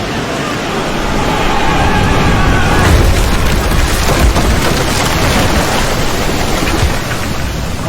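Ship ramming in Expeditions: Rome, as a pirate vessel strikes a Roman ship: a loud, rumbling crash and boom swells over constant roaring water-like noise and stays heavy and washy for several seconds.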